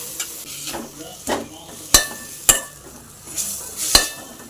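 Gongura leaves frying with spices in a pan, steady soft sizzle broken by sharp clinks and scrapes of a spoon stirring against the metal, close and moderately loud.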